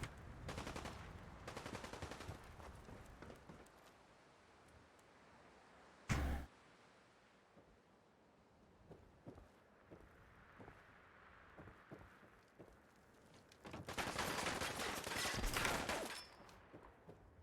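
Gunfire in Fallout 4: bursts of rapid shots open and close the stretch, with one sharp isolated blast in between and quieter scattered pops in a subdued lull.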